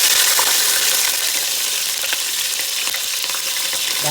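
Onions frying in hot oil, cloves and cinnamon, for a Telangana-style mutton head curry: a loud, steady, close sizzle throughout, with no talking.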